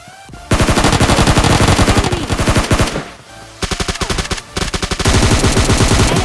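Rapid automatic gunfire in the PUBG Mobile Lite shooter, loud close bursts of fast repeated shots with short pauses between volleys, no talking.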